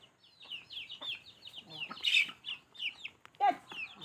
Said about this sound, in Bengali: এগুলো সব দেশি মুরগি